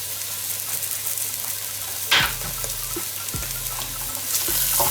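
Garlic frying with browning onions in a pan, a steady bright sizzle throughout with a brief louder crackle midway and a few stirring scrapes, no voices.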